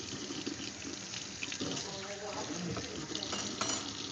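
Water runs steadily into pineapple juice in a kitchen while the juice is prepared for Southern berry dumplings. A continuous, fairly close pouring and splashing wash lasts throughout.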